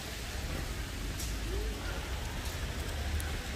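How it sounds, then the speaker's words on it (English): Steady rain falls outdoors near a lake on a road trip in Wanaka, New Zealand, a continuous dense hiss of drops that stays even and close throughout with no clear pauses. "I am recording right now, even though it's raining."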